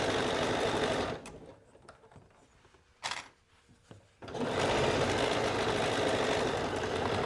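A sewing machine stitching around a hoodie cuff, a fast steady whirring run that pauses for several seconds with soft handling clicks, then resumes at full speed.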